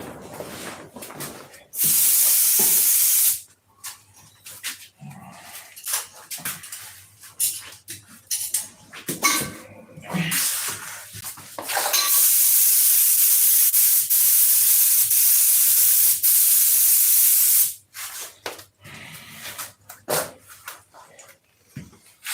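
Thinned paint sprayed onto an aircraft canopy in two long steady hissing bursts from a spray gun, close and loud, separated by quieter handling noises and brief talk.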